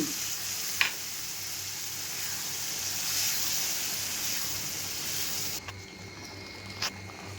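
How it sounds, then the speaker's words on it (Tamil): Tomatoes fry in oil in a pan with a steady close sizzle and crackle, with a few light clinks of a utensil against the pan. "இப்போ தக்காளி நான் ஊற்றுறேன் அது நல்லா வணங்கணும் மேலே எண்ணெய் பிரிஞ்சு வரணும்"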